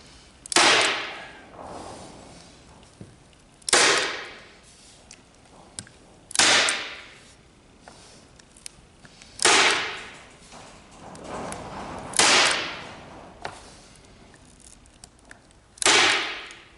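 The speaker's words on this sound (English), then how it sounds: "staple it on each side as I go" A staple gun fires repeatedly, stapling fabric onto a DIY vent cover: six sharp, loud snaps spaced about three seconds apart, each with a brief ringing tail, over quiet room background.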